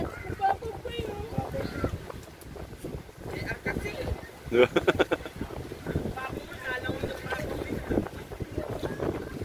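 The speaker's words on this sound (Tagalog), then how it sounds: "Lakas ang hangin dito" Strong wind buffets the microphone in a continuous low roar, with people talking over it and water splashing nearby, at Pulong Pasig, Calauag, Quezon.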